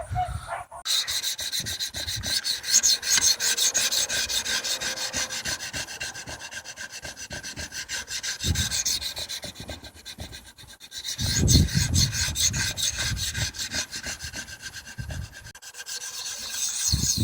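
A DPx HEFT 4 knife blade being sharpened on a whetstone, with steady, loud rhythmic scraping strokes that rasp back and forth close up for the whole stretch, pausing only briefly.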